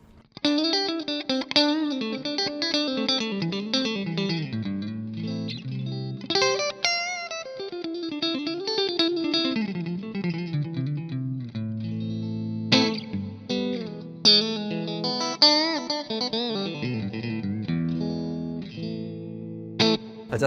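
Electric guitar played through a Hughes & Kettner Triamp Mark III amp, with reverb and delay from floor pedals, rings out in clean, shimmering chords and melodic lines with echoing repeats throughout, no talking.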